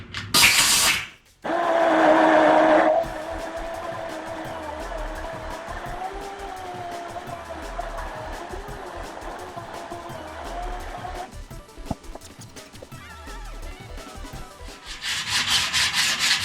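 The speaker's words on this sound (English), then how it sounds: "Just some 80 grit on a hard block. All I'm basically trying to do is just smooth out all the edges." Skateboard edges being hand sanded with 80 grit paper on a hard block: a steady, close, rasping rub that runs continuously, with a brief louder burst at the start and a pause before the stroke resumes.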